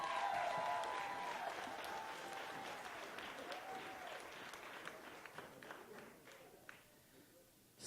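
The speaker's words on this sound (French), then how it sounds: "On l'applaudit chaleureusement." An audience at a bar hails a performer at a local artist showcase with warm clapping that starts loud and thins out. Faint tonal sound and a voice carry over the fading applause.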